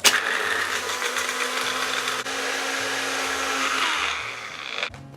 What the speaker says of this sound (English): Give it a blend until it fully dissolves the ice.